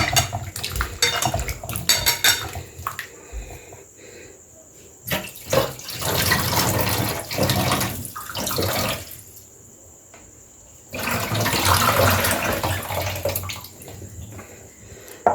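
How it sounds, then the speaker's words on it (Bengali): Cut raw green mango is washed in a bowl of water, with sloshing and splashing in bursts and the clatter of a metal pot and utensils between quieter pauses. "কাটার পর আর একবার ধুয়ে নেবো আমটাকে ভালো করে।"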